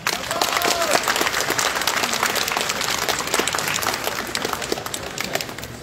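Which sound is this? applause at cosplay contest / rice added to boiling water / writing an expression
applause at cosplay contest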